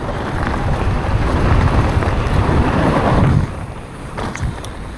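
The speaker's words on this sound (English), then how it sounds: "It's way too windy through here." Strong gusting wind buffets the microphone on a mountain bike trail at a bike park, a loud, steady roar that eases off near the end, with no voices.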